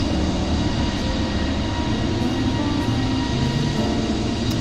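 Steady, loud broadband roar of a jet airliner heard from outside the plane in Microsoft Flight Simulator 2020, a continuous engine drone with no gaps and no talking.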